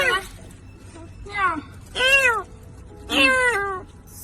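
A stray cat hiding under a car meows four times in rising-falling cries, fairly close and clear over faint background hum.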